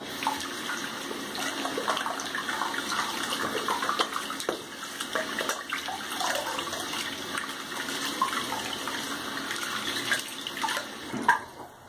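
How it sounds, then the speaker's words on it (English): Hands are washed under a running tap, a steady close stream of water splashing and rushing for about twelve seconds with small shifts as the hands move through it. "Just do a quick hand wash with it."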